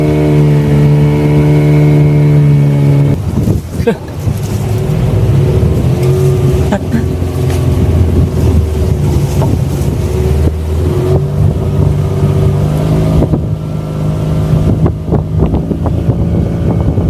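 A fishing boat's engine drones loudly and steadily with a whining hum as it pushes through waves on a stormy, windy sea, while heavy wind buffeting roars over the microphone throughout.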